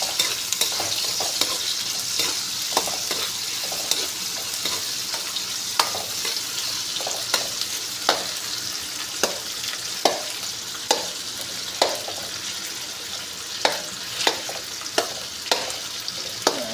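Onions, garlic and ginger sautéing with a pink salmon head for sinigang, a steady sizzle throughout with frequent sharp stirring scrapes and taps of the utensil against the pan, close and alone.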